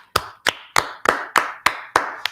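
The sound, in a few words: audience clapping for the Lord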